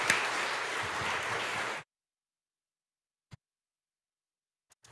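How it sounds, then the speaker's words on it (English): Applause at a seal of biliteracy student recognition ceremony, a steady crowd clapping that cuts off abruptly after under two seconds, followed by near silence with a couple of faint taps. "Let's give Graciela and her team a great round of applause"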